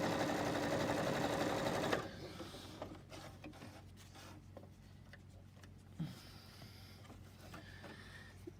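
A Juki HZL-LB5020 sewing machine stitches through three layers of denim, running loudly with a steady rapid whir for two seconds, then stopping and leaving a quiet low hum with faint clicks and handling noises.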